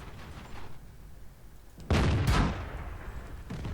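In World of Tanks, an enemy shell slams into the side of a Super Pershing's turret: a single loud, heavy boom bursts over steady battle rumble, then fades into lingering noise.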